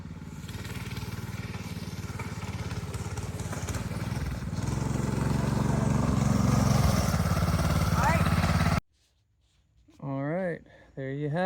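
A Coleman KT196 go-kart engine runs loud and steady on a test drive, revving higher partway through before cutting off abruptly, after which a person speaks briefly over near silence.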